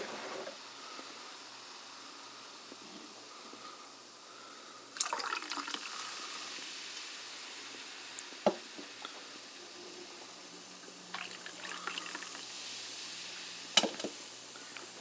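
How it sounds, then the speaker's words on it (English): Blackberry-flavored sparkling water pours steadily into a mug with a fizzy, crackling hiss, followed by soft scattered clinks and bubbling; no one speaks. "pour it into this"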